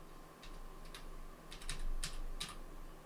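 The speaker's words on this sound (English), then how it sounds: "So I'm just going to type up" Keystrokes on a computer keyboard come in short irregular bursts as a command is typed into a terminal, crisp, close and alone over a faint steady hum, with no talking.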